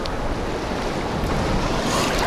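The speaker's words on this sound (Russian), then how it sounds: "Да, волны сильные." Strong sea waves on a wild beach in Crimea surge and crash in a continuous rough wash of sea noise, with wind rumbling against the microphone.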